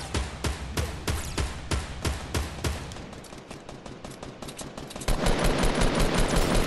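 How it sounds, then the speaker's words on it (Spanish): Rapid gunfire in the Fortnite video game, repeated sharp shots in quick bursts at close range, then a denser, noisier barrage of fire near the end. "me están disparando a mí"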